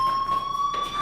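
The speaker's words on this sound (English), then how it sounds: "do you hear that fire alarm? That means you should be outside." A fire alarm rings in the game Life Is Strange, a steady high electronic tone held loud and unbroken for the whole second, with no talking over it.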